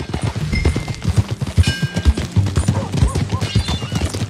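Rhythmic clip-clop of horse hooves trotting close by in a video game, steady and even, with a faint voice and scattered clatter in the background.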